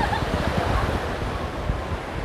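Sea waves wash in at Sundak beach in Yogyakarta, a steady rumbling surf with wind buffeting the microphone, continuous and fairly loud outdoors.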